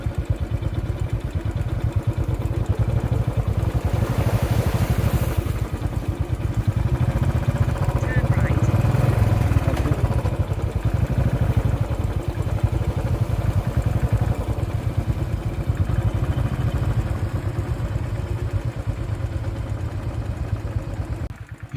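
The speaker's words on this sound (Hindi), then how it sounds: "मेरी बाइक पडल के बीचों बीच न्यूट्रल हो गया था" A motorcycle engine idles and revs with clattering, rumbling continuously at close range on a muddy hill trail near Bangalore while splashing through a puddle, with someone talking over it.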